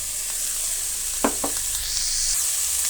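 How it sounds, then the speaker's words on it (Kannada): Beetroot masala being stirred in a pan over a steady sizzle, with a few short, close scrapes of the spoon near the middle and no voices. "ಬೀಟ್ರೂಟನ್ನು ನೀಟಾಗಿ ಮಿಕ್ಸ್ ಮಾಡ್ಕೊಳ್ಳೋಣ"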